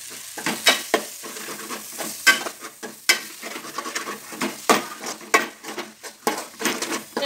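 Garam masala and pepper powder are stirred into a frying pan while making chicken biryani. Soft sizzling sits under a series of sharp, uneven scraping strokes from the stirring, close and moderately loud.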